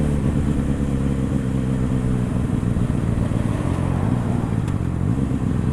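A Honda CBR 650R motorcycle engine running at low revs in first gear, a loud, steady close rumble with a slight clanky edge throughout, no voices.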